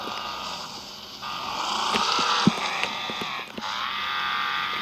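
Whining racing-car engine in the video game Wreckfest drones steadily with rising and falling pitch as gears shift, accompanied by a few sharp clicks, fairly loud and continuous.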